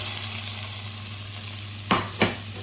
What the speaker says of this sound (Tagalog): para iluto natin ang ating sibuyas at saka bawang